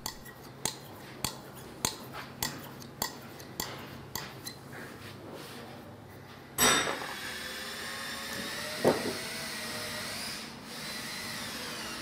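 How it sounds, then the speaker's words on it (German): A file with polishing paste works carefully on a hunting rifle part, giving about a dozen light, evenly spaced scraping strokes. Then a louder, steady motorized whir takes over in the workshop, with no talk. "Darum feilt Sigi ganz vorsichtig mit Polierpaste auf der Feile."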